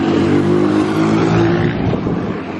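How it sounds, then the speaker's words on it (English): A big bus rumbles past close by on a city street in Cuenca, a loud, heavy engine drone with a low whine that holds steady and then eases off slightly as it moves on. "Big bus."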